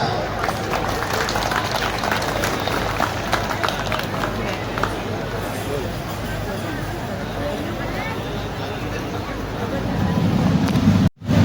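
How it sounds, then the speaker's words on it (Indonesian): A large crowd applauds continuously at a cadet officer inauguration ceremony, a dense, loud, even wash of clapping with faint murmur beneath, swelling slightly near the end before cutting off abruptly. "Beri tepuk tangan yang meriah."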